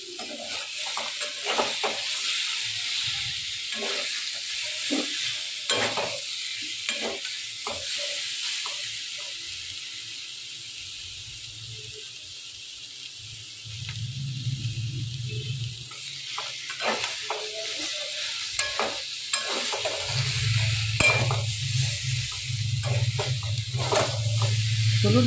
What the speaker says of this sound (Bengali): দেখুন আলুটা ভাজতে ভাজতে মশলা থেকে তেমন একটা সুন্দর গন্ধ বেরিয়ে গেছে।